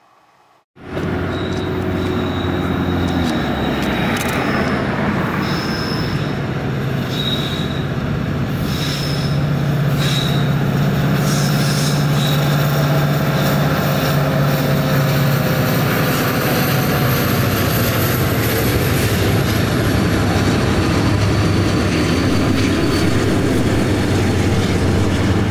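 A heavy freight train rumbles past close by, a loud continuous roar of cars with high metallic wheel squeals, and no voices.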